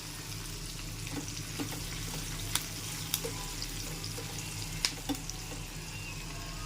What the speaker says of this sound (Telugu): తాలింపు చాలా బాగా వేగుతుంది